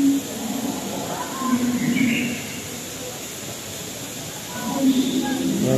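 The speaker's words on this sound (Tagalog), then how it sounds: "mayroon din kayong may mga naririnig din na mga huni ng ibon pero artificial no" Soft chirping artificial bird calls with a slightly synthetic quality, played indoors in a planted garden inside an airport, come and go over a steady background hum and faint murmuring.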